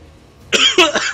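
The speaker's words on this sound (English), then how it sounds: "It's like trying not to cough." A single close, sharp cough from a shoe-casting commentator during a StarCraft match broadcast, a brief harsh burst with a second hack right after and no other voice.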